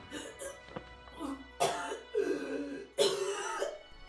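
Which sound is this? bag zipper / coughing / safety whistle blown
coughing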